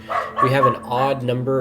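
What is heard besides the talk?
dog barking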